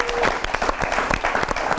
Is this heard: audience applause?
yes